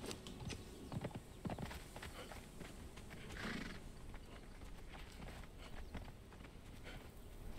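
Horse hooves clip-clop steadily in the video game Conan Exiles, with a brief whinny partway through over a dense background of game ambience.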